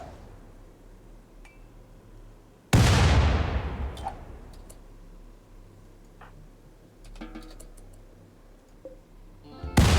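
A sudden loud explosion from the video game RimWorld erupts about a third of the way in, its roar decaying over a couple of seconds above a low game soundscape, with a second sharp blast cutting in at the very end.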